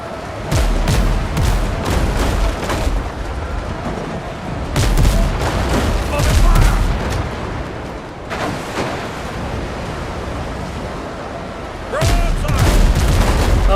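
Ship cannons fire in the naval game Windrose as repeated volleys of heavy booms, clustered in rapid bursts with brief lulls and a final loud salvo near the end, all close and powerful.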